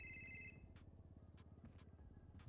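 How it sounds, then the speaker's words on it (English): A mobile phone ringtone chimes in a bright repeating electronic melody, faint and steady in the background with no talking. "Sorry, that's going to drive me crazy. I got to mute my phone."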